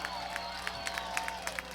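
A soccer crowd at Blackbaud Stadium cheers a Charleston Battery goal against the Richmond Kickers, a steady roar with scattered claps throughout the brief moment.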